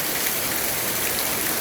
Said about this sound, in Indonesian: Pada saat hujan begini enak.